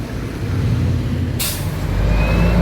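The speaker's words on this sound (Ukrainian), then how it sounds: "Вон автобус е, в іншу сторону їде." A city bus air brake at a bus stop in central Durrës, Albania, releasing one loud, sharp hiss midway through the clip over steady traffic rumble and a low engine idle.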